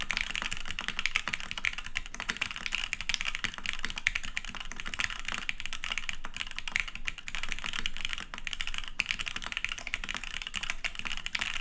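Rapid typing on a Static Archive HeartbreakTKL mechanical keyboard with stock frame and no force break, a fast continuous stream of clacky keystrokes at close range, steady and alone without talk.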